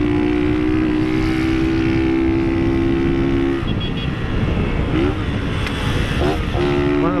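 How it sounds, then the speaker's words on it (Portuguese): A small motorcycle accelerates close by, its loud droning engine holding steady before the pitch sweeps upward several times toward the end. "Dá gosto de acelerar a motinha."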